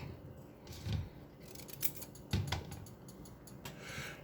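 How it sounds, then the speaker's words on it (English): Turnip greens cut into bite-sized pieces with a blade, giving a few soft, crisp snips and chops at irregular intervals, close and faint, with no talk. "I just break it down and then cut it into bite-sized pieces."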